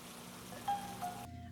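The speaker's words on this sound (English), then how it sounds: "how I didn't have any music and just the rain noise" Rain falls steadily outdoors as a soft, even hiss at low volume, with a couple of faint brief tones mid-way before the sound cuts off abruptly near the end.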